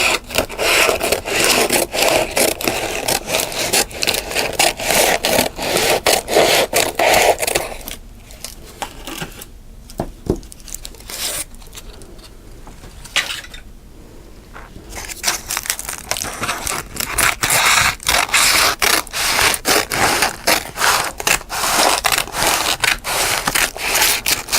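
Close-up cutting away the edges of a crinkly Halloween treat, with dense crackling, crunching and rubbing that fill most of the stretch, easing off briefly in the middle before resuming, no talk.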